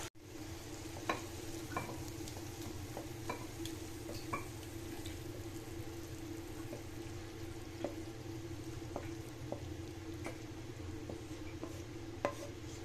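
Matar paneer with kewra water simmers and is gently stirred in a pot, a quiet continuous sizzle and bubble with scattered light taps and scrapes of a spoon throughout; no speech.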